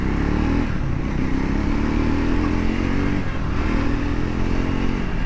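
A Triumph Scrambler 400 X motorcycle engine drones steadily and loudly on a test ride, with a slight dip and rise in pitch as it pulls in gear against wind rush.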